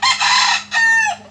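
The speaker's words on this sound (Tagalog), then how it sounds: "Ito yung manok. Manok ko." A pet rooster crows twice in close succession, loud and near, each call a rising harmonic cry that breaks off sharply, with a quiet low hum underneath.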